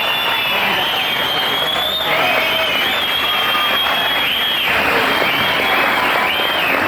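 Crowd at a kickboxing fight applauding and cheering after ten rounds, a dense steady roar of clapping and voices with a shrill whistle-like tone running through it.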